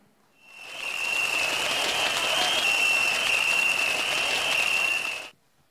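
Steady audience applause welcomes a Teochew opera singer at a 2023 village Spring Festival gala in Tangpu, Jieyang, swelling in quickly and holding evenly for several seconds, with a thin high whistle running through it, before it cuts off.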